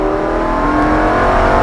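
A Lamborghini Huracán accelerates at full throttle on a track, its engine a loud, steady, close roar that fills the whole moment without a break.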